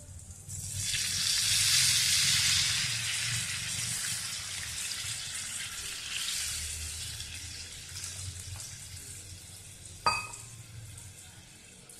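Water poured into stuffed brinjal masala frying in hot oil sets off a loud hissing sizzle that slowly fades to a softer bubbling simmer, with a sharp clink of utensil near the end and no talking.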